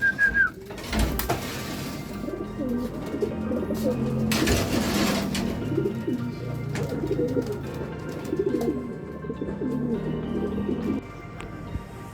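Racing pigeons coo softly and continuously at the loft during training, a low murmuring bed of calls with a brief whistle and a couple of louder knocks early on.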